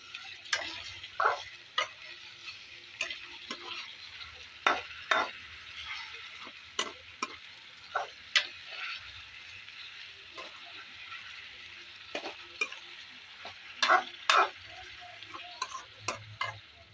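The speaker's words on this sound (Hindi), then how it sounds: "चिकन को हमने तकरीबन 8 मिनट तक ऑयल में फ्राई कर दिया" Chicken pieces fry in oil in a karahi for a koyla karahi dish, with a steady sizzle underneath and sharp, irregular clicks and scrapes of stirring against the pan, close and moderately loud, without any voices.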